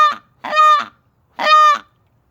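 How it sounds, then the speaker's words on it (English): A goose gives three loud, close honks, one short clipped call followed by two longer nasal ones, with clean silence between them. "that's a little more goose for you"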